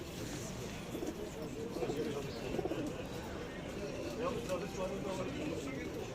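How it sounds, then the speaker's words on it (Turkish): Tumbler pigeons sold at the Edirnekapı bird market in Istanbul coo in low, continuous murmurs amid steady market bustle and background chatter. "Bunlar da oyun kuşları arkadaşlar"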